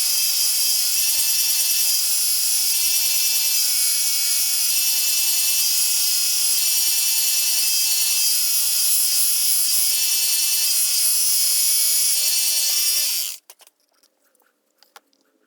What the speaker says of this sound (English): I'm using the 1-inch belt sander to smooth the edges.